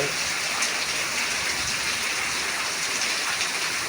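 Heavy rain pours down steadily in Tiruppur, a dense, even hiss of water striking surfaces close by, loud and unbroken with no voices.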